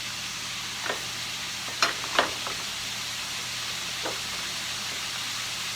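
Slivered onion stirred into pork belly sizzling in a pan, a steady frying hiss broken by a few brief scraping stirs, no voices.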